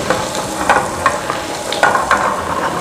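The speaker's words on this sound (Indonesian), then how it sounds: "Kita masak jahenya sampai matang agar wangi ya." Ginger fries in oil in a pan for a Chinese-style dish, giving a loud, steady sizzle broken by occasional scraping stirs.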